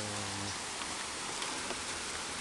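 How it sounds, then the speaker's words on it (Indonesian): Rain falls steadily in the village of Loksado, a dense, even hiss of drops on surfaces; a low tonal hum fades out during the first half-second. "Hujan harinya."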